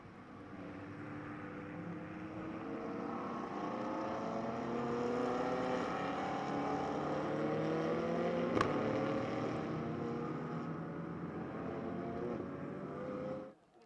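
Pirelli GT4 America race cars circle Road America behind the safety car in a 2019 SprintX race, a steady engine drone rising and holding from a distance, with a brief sharp click midway and no talk.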